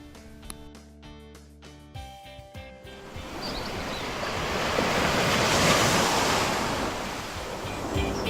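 Strong wind buffets a sailboat rigged with a jib and genoa on open sea near Guadeloupe, with ocean waves crashing in a loud, continuous roar that swells steadily and stays close throughout.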